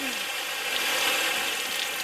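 A Norton Flexvolt Clipper TT200 tile cutter running with water flowing, a steady loud broadband whir and hiss that holds constant throughout.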